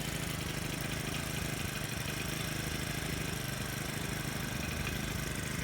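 A 40cc mini pocket bike engine idles steadily after being started, a faint, even, buzzing drone with a light rattle and no speech over it.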